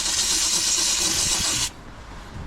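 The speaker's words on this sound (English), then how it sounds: "Just gonna go around it once more with steam and just getting all these little grooves." A steam cleaner hisses loudly and steadily into the grooves of a dirty builder's van, then cuts off abruptly, leaving a quiet background.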